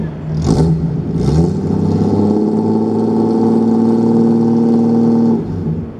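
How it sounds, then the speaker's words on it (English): A Triumph straight-six engine cranks a couple of times, then catches and settles into a steady, loud idle close by, with a deep, even rumble before cutting off. "I'm just gonna listen to this Triumph Straight 6 start up"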